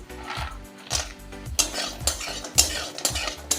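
Urad dal bori, small sun-dried lentil dumplings, fry in a pan while being stirred, with repeated scraping and clinking of a utensil against the pan over a steady sizzle, close and moderately loud.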